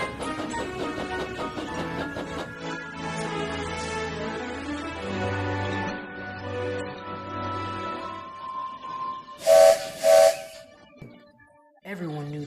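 Stepney, a steam locomotive, gives two short, sharp whistle blasts in quick succession, sounding out after a stretch of soft orchestral music.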